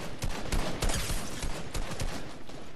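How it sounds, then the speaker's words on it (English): Rapid gunfire in the Fortnite video game, a dense run of repeated shots and impacts across the whole stretch, loud and close. "I'm getting shot at"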